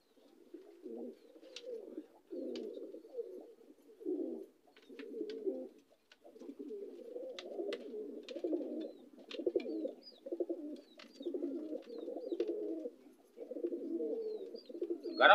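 Racing pigeons coo in a steady stream of soft, throaty, rolling calls, overlapping one another close by, with a few faint higher chirps above and no talk.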